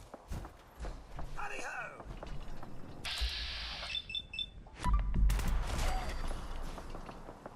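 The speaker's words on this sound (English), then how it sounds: "we want to avoid the gunfire over there" Gunfire in the video game Fallout 4, scattered bursts and single shots in the background, mixed with footsteps, game effects and a voice talking over them.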